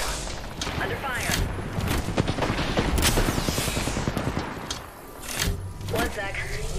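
Dense, rapid gunfire bursts in the Apex Legends battle royale game, loud and rattling with heavy booms, while voices talk over the action.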